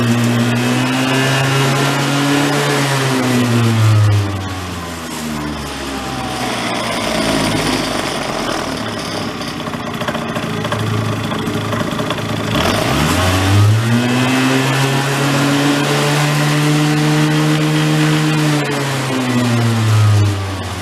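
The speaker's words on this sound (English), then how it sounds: "But you go to rev it, you might get a flat spot." A barn-found Yamaha Vino scooter engine revs up and falls back to idle twice, a close, buzzy small-engine drone that rises and sinks in long sweeps and holds a ragged idle in between.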